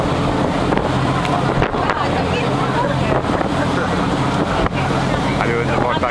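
A motorboat cruises through the Stockholm archipelago near Lidingö, its engine giving a loud, steady drone over rushing water and wind buffeting the microphone.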